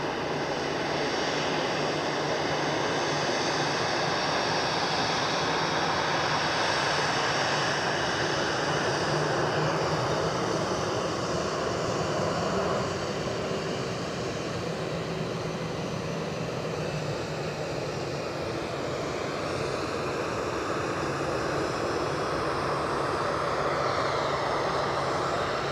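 Fixed-wing aircraft engine roar at Edinburgh Airport runway 06, a loud steady broadband drone that holds for the whole stretch with a slow shift in pitch as the plane moves, no talk over it.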